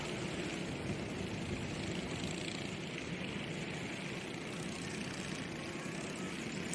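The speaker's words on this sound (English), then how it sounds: "Already I can hear those Honda engines purring and are being released." A steady, buzzing engine drone hums continuously at moderate distance, several Honda kart engines idling together with no break at a karting track.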